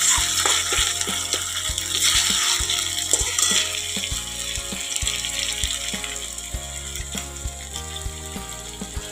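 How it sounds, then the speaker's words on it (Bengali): Ginger garlic paste frying in a pan, a loud continuous hiss and sizzle close up, dotted with light taps and clicks of a spoon, while a low tonal hum runs underneath. "আদা রসুন পেস্ট দিয়ে দিলাম। এবার ভালো করে একটু ভেজে নেব"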